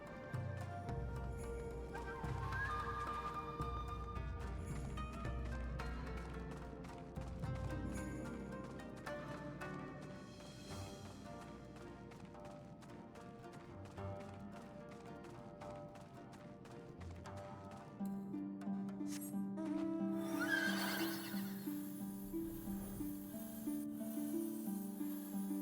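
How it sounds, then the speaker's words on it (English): Horse hooves clip-clop with an occasional whinny in the Final Fantasy XIV video game, quiet and mixed under continuous game music. "With such a steed to bear me to and fro, I could perform my fieldwork in a fraction of the time."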